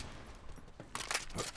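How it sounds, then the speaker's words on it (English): Borderlands 3 gunfire crackles in short, rapid bursts, fairly faint and somewhat distant, stacked with other game sounds. "Oh, no, gun sounds."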